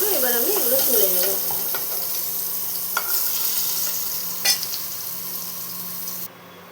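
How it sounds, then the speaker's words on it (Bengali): Sliced pointed gourd (potol) fries in hot oil with a steady sizzle and occasional stirring clatter, close and fairly loud, while a voice talks briefly at the start. "এইভাবে লাল লাল করে ভাজতে হবে পটলগুলো"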